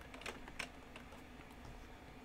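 Quiet, close tapping on a computer keyboard, a short run of irregular light key clicks with a couple of firmer strokes.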